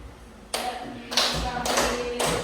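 Students and teachers in an Indonesian school clap together in a rhythmic group routine, several loud bursts of claps landing in a steady pattern, with faint voices in the background.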